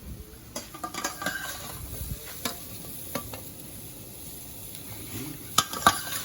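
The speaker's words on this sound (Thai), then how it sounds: "ตอนนี้เอาปลาใส่ได้เลยฮะ ปลาที่เราลวก" Blanched yellow catfish goes into a pot of Thai jungle curry: soft, steady bubbling with scattered clinks and scrapes of a utensil against the pot, closer knocks near the end.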